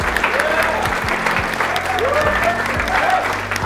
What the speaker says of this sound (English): Please give a big round of applause for third place